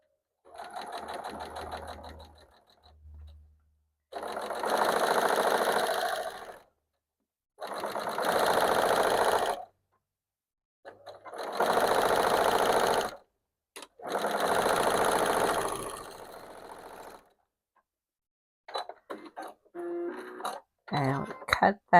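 A sewing machine stitches quarter-inch seams on fabric for half-square triangles, running in about five distinct whirring bursts of a few seconds each, with silent gaps between and faint handling noises at the end.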